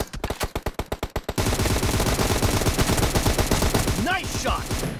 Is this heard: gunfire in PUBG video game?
yes